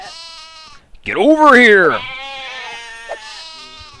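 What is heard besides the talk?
sheep bleating in video game Black & White 2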